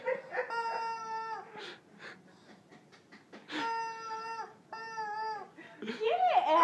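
A chicken clucks and squawks in sharp, tonal bursts close by, rising and falling in several separate calls, with a person's voice nearby.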